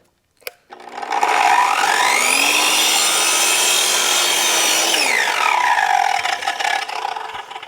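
An angle grinder cuts through PVC irrigation pipe outdoors, spinning up with a steady high whine and rough cutting noise for about four seconds before winding down, loud and close, with no talking.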